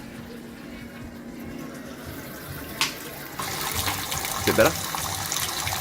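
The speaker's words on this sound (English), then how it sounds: "this is water going into the mash tun" Water pumped into a home-brewing mash tun, with the flow throttled back by a ball valve, runs as a steady rushing wash throughout while someone briefly speaks nearby.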